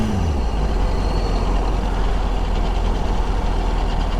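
A Yamaha R1 motorcycle engine runs loud and steady just after a shift into first gear, with a dense low rumble holding evenly throughout and no voices.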